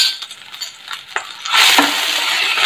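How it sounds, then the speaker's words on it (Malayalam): Curry leaves, ginger, green chili and garlic are stirred into hot coconut oil for karimeen pollichathu. Scattered clinks and scrapes of a spoon give way halfway through to a loud, steady sizzle, close up with no talking. "കറിവേപ്പിലേൻ്റെ കൂടെ ഇഞ്ചി, പച്ചമുളക്, വെളുത്തുള്ളി, കറി ചതച്ചതും കൂടി ചേർത്തിട്ട് നന്നായിട്ട് മിക്സ് ചെയ്യാം."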